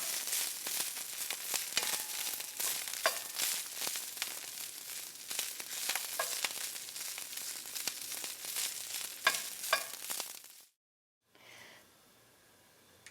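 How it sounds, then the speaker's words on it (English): Broccoli sautés in a hot pan for about ten seconds, a steady dense sizzle with frequent crackling pops and stirring. It cuts off abruptly, then a quieter hiss follows. "we're going to saute off our broccoli, get some nice color on that"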